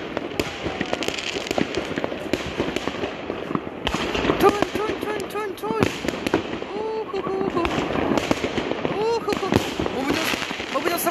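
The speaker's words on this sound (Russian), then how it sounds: "А вот еще салют начался." Fireworks bursting over a city square on New Year's night, with repeated loud cracks and booms coming in dense volleys, some nearby and some farther away, while people talk throughout.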